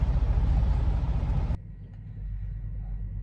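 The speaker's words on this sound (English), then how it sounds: "Let's start driving." A car on a highway in North Dakota rolls along with steady loud road and engine roar, then the broadband noise drops abruptly into a lower cabin rumble with a faint hum.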